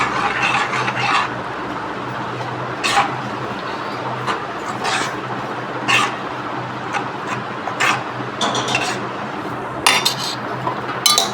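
A spoon scrapes and clinks against a metal pot while buttermilk is stirred into a South Indian puri chutney, with intermittent close metallic taps over a steady background hum.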